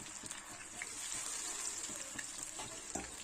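Steady, faint sizzling and bubbling of mushrooms frying in hot oil over a medium flame, a continuous crackling hiss with small pops and occasional stirring.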